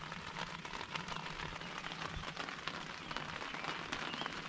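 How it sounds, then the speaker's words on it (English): Steady rain pattering at Lake Louise at sunrise, a dense, even hiss of drops, fairly quiet and continuous with no voices. "It's raining pretty steady."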